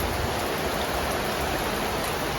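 Heavy rain pours steadily, a dense, loud, continuous hiss of water with no breaks, close and enveloping.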